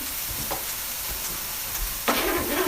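Marinated vegetables and oil tip into a hot pan for pasta primavera, a steady background hiss breaking into a louder, bright sizzle burst about two seconds in that continues to the end.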